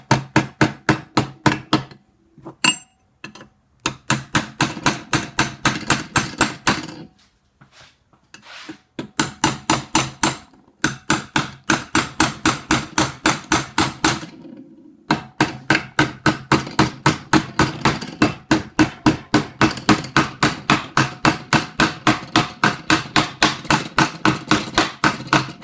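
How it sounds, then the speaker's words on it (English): Rapid, loud hammer blows ring out on metal while forging barrel lugs for a Brown Bess musket, in long rhythmic runs broken by a few short pauses, close up. "Start hammering."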